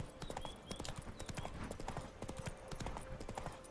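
Roach, a horse in The Witcher 3: Blood and Wine video game, trotting with quick, steady hoof clops, faint and close, under a quiet game soundscape with occasional soft tones.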